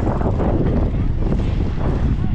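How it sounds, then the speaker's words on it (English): Strong wind buffets the microphone outdoors in a hilly suburban area, a loud continuous rough roar with gusty swells throughout. "Very windy."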